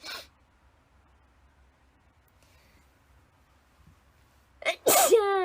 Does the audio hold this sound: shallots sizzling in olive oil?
no